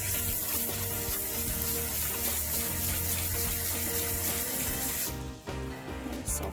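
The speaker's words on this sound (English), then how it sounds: "So let's put some water on it." Tap water pours and splashes steadily over a rock being prepared for tumbling, a continuous rushing hiss that briefly shifts near the end.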